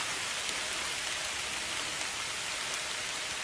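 Steady rain falls around an Appalachian deer camp, a dense, even hiss of drops on surfaces that holds without a break, close and fairly loud.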